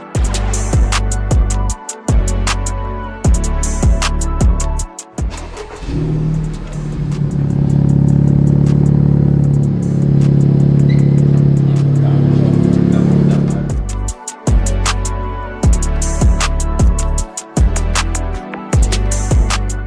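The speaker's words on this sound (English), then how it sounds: "I'm already hearing better exhaust notes" Loud exhaust of a 2020 Honda Civic Type R with a new exhaust system roaring as the engine pulls through gears, with choppy rhythmic pulses at each end and a sustained deep drone in the middle.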